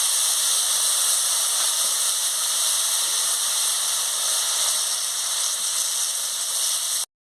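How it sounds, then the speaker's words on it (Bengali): Spice paste frying in a pan with a splash of water gives a steady loud hiss and sizzle, unbroken and close for the whole stretch, with no talk. "দিয়ে সামান্য একটু জল দিয়ে মশলাটাকে ভালো করে কষিয়ে নিচ্ছি।"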